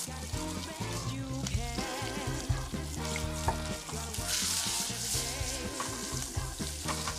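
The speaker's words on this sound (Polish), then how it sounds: "Dodam cebulę." Onion sizzles and crackles softly in a hot pot with fried bacon, heard faintly beneath steady background music.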